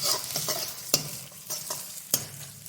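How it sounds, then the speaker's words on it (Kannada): Onions frying in oil in a pan while a spoon stirs them, giving a steady close sizzle broken by several sharp scraping strokes against the pan, with no voices. "ಈರುಳ್ಳಿ ಹಾಕಿ ನೀಟಾಗಿ ಫ್ರೈ ಮಾಡಿ ಬ್ರೌನ್ ಬರೋವರೆಗೂ"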